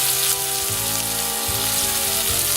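A single burger patty sizzles and fries in a pan, a steady, close crackling hiss with faint pops throughout.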